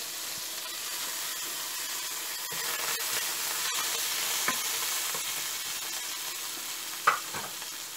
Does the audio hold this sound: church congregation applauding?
no